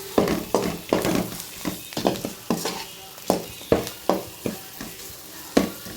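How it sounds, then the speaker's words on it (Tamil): Chopped large onion and a ground paste fry in a pan for tamarind rice while being stirred, with a steady run of close, rhythmic scraping strokes over a soft sizzle. "அப்புறம் ஒரு கட் பண்ண பெரிய வெங்காயம் போட்டு தாளிக்கேன்."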